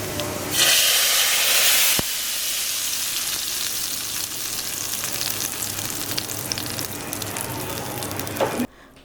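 Loud, steady sizzling of cumin seeds tempering in hot oil, a sharp hiss jumping up at the start and then crackling on continuously before cutting off.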